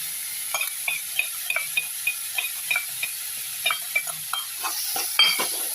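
Starfruit chutney with cumin and chili powder frying in a pan, a soft steady sizzle beneath rhythmic light taps and scrapes of a spoon stirring, close and fairly quiet, with no talk.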